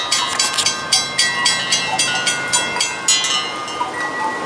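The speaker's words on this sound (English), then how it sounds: "here comes another train" A southbound CSX freight train rolls past close by on a windy, rainy night, with rhythmic wheel clatter over rail joints repeating steadily and a high metallic ring running through it.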